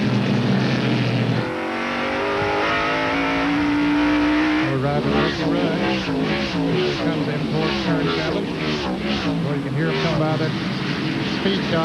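NASCAR Winston Cup stock cars at the 1995 race at Sears Point roar past one after another, engines revving and pitching up and down, loud and close, while a commentator talks over the noise.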